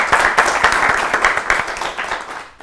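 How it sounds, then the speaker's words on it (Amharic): An audience at a children's quiz show claps for a young girl contestant, a dense burst of applause that stays loud and steady before tapering off at the end. "ለፍቅርተ አጨብጭቡላት በደንብ አድርጋችሁ"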